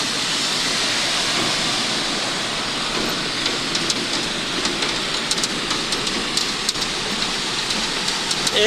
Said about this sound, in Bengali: এই দেখেন কিরকম বৃষ্টি হচ্ছে।